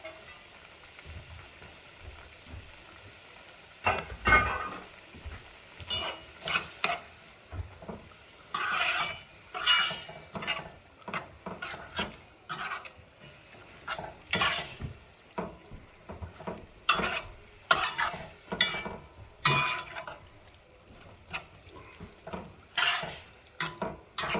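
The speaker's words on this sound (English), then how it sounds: "All right, that's stirred." Rice with pigeon peas stirred in a cooking pot, a spoon scraping and knocking against the metal in irregular bursts with a faint sizzle underneath, close by, no talking.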